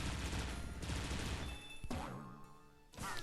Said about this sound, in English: We can use the cannon in order to shoot up here.